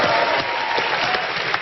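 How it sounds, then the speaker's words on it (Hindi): Studio audience at a TV comedy talk show applauds a guest: dense, steady clapping fills the whole stretch at close range and full loudness, with no pauses. "माही के लिए तालियां हो जाए जरा"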